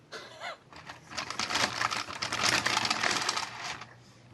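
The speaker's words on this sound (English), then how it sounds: "that is the sound of a card shuffling machine" A rapid, rattling flutter of cards riffling through a hand-cranked shuffler builds up, runs for a few seconds, then tapers off, close and fairly loud.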